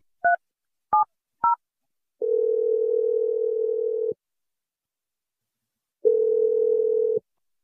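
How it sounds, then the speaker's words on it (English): Three short touch-tone beeps of a number being dialed, then a steady telephone dial tone that stops and returns after a pause, clear and alone on the line. "I'm dialing your number right now."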